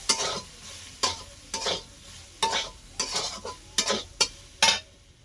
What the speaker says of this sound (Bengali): এদিকে আগে চাউমিন গুলো ভেজে নিচ্ছি